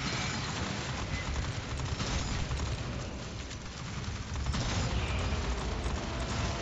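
Sentry gun in the Aliens: Fireteam Elite video game firing at a stalker, a dense, continuous burst of rapid automatic gunfire with mechanical clatter that stays loud throughout and briefly dips midway before surging again.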